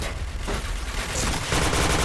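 Rapid gunfire in a first-person shooter video game on the Sandstorm map, a loud dense burst of repeated shots that intensifies toward the end.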